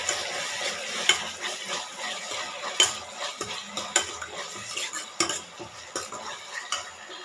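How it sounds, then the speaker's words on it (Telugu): Chopped tomatoes frying in a pan for a spiced okra gravy, stirred with a metal spoon that scrapes and clinks irregularly against the pan over a soft, steady sizzle. "ఇప్పుడు టమోటా వేసుకుందాము. వేసుకొని దీన్ని బాగా ఫ్రై చేసుకోవాలి."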